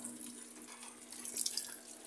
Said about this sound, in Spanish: Y ya empezó a echar agua.